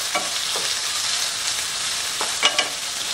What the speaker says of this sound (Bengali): এবার লাল হওয়া পর্যন্ত পেঁয়াজগুলোকে লাল করে আমরা ভেজে নেব।